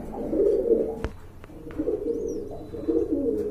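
Pigeons cooing, a large pair of Giribaz pigeons with a chick, soft low continuous coos with a faint high chirp and a couple of sharp clicks, moderately close and steady throughout.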